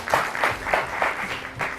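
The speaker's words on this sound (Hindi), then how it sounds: "बहुत सारी तालियां हो जाए इनके लिए" Studio audience clapping on a morning television show, a short burst of lively applause with pulsing claps, near and moderately loud, with no talk over it.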